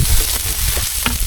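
Onion frying in hot oil in a pan, a steady sizzle with scraping stirs of a utensil against the pan, close and loud.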